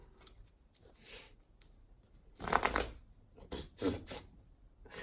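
Tarot cards being shuffled by hand, soft papery riffles and flicks in quiet, close bursts with a couple of louder shuffles toward the end.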